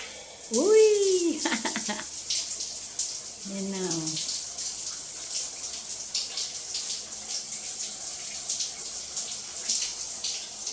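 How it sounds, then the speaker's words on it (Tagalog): A shower runs with a steady, close hiss of falling water that carries on throughout, while a couple of voices speak briefly near the start. "Pwede na maligo ng shower."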